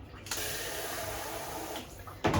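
Water poured into a container of diluted concentrated pet shampoo, a steady rushing fill from tap or jug lasting about two seconds, ending with a brief louder splash or clunk.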